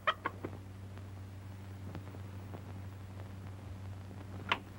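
Indoors, a hen and rooster kept under a bed give a few faint, clipped clucks near the start and another near the end, set against a steady low hum.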